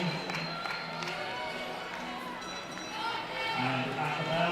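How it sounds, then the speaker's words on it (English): Crowd noise swelling at an indoor university athletics championship race, a broad continuous roar that builds steadily and grows louder toward the end, with a commentator's voice running over it. "Crowd starting to pick up the noise."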